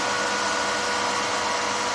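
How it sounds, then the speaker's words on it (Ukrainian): Cooling fan of a DniproM MMA 250D welding inverter running on the bench, a steady, close whirring hum that holds even throughout without pauses. "Вентилятор працює, все нормально."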